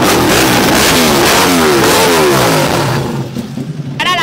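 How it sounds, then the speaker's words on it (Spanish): Motorcycle engine revved hard up close, a loud rasping roar climbing in pitch, then dropping away to a lumpy idle before a short sharp blip of the throttle at the end. "¿Cuánto suena tu moto?"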